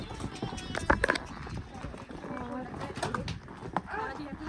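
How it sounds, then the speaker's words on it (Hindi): Horses' hooves clip-clop along a mountain trail at Kufri, where some of the horses are agitated and ill-tempered. The hoofbeats are steady and close, mixed with birdsong and people talking throughout. "और आगे से फिर से बहुत गुस्से वाले घोड़े आ गए।"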